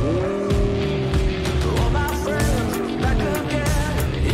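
Car in Fortnite revving and squealing its tires as it drives, with a sustained engine drone, repeated skidding screeches, and game sounds layered on top.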